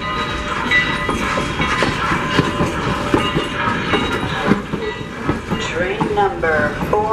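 A passenger train on the Strasburg Rail Road rumbles and clatters steadily along the rails, with squealing metal toward the end and muffled voices in the background.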